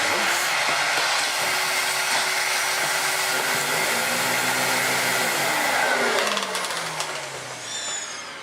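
A Johnson Diversey Ensign 350 vacuum cleaner runs with suction, a loud steady motor whine with shifting tonal pitches that drops and fades near the end.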